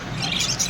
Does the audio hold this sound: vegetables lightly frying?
no